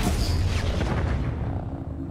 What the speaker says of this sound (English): Fire an orbital cannon at an automatic track target.